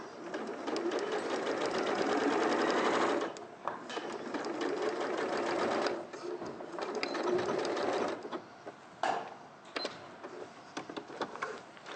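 A sewing machine stitches skirt lining and fabric in fast whirring runs, stopping and restarting several times, close and steady during each burst with short pauses between seams.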